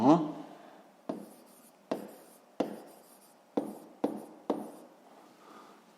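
Pen or chalk strokes marking a math exercise, about eight short scratchy bursts in an irregular rhythm, close and fairly quiet with nothing else heard.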